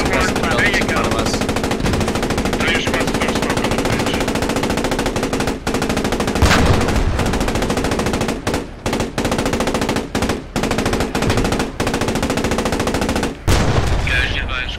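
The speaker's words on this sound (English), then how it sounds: "Keep those guns going. Keep them suppressed." Tank machine guns fire in sustained bursts during a Post Scriptum armored battle, a loud, dense chatter of automatic gunfire with brief pauses and heavy rumbling underneath, nearly continuous throughout.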